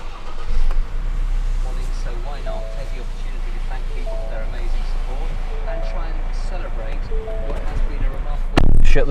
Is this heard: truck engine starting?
yes